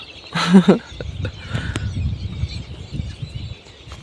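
A single loud, nasal duck quack rings out near the start by a pond, followed by faint chirps and soft outdoor background noise.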